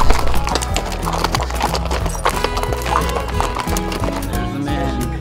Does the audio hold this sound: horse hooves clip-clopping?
yes